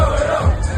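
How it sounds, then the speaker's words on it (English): Football fans celebrating in a pub after Worthing FC's 2-0 promotion win over Ebbsfleet, a loud crowded mass of cheering, whooping and bellowing voices packed close together. "And the celebrations continued in the pub as well."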